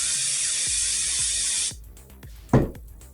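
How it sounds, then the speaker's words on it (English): Cooking spray hisses in a steady, close burst for over a second onto pumpkin spice cereal bars, then stops, leaving soft scraping and a brief thump. "So to smooth it all out, the recipe calls for more cooking spray."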